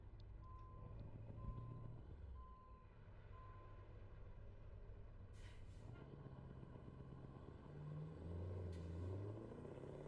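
Reversing alarm on a truck in Euro Truck Simulator 2, a few evenly spaced single beeps over a low engine rumble, followed by a brief air-brake hiss and a heavier rumble as the engine revs.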